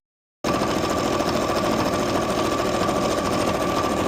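A sewing machine stitches pieces of a DIY baby Mandrake costume together, running in a steady, continuous rapid whir after a brief silent start, close and loud with no talk.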